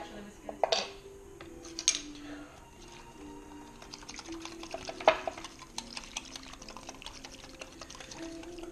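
A whisk clatters and taps against a bowl in a home kitchen, giving quiet, irregular ticking and clinking with a few sharper knocks rising above a soft background.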